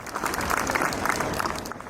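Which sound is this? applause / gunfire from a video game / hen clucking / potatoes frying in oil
applause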